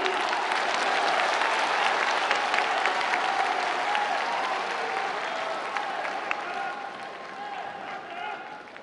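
Loud, sustained applause from a large crowd at Sri Goudiya Mission in Kolkata, a dense roar of clapping that holds steady and slowly tapers, with voices faintly mixed in.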